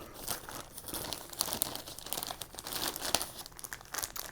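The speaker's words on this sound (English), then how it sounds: "Let's see what's in this Gibson goodie bag. It's resealable." Plastic crinkling and crumpling as a resealable Gibson goodie bag from a 2018 Les Paul guitar case is opened, a busy, close run of crackles over about four seconds with no talk.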